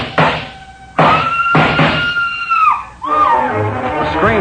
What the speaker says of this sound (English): A scream filled the house, high and frenzied.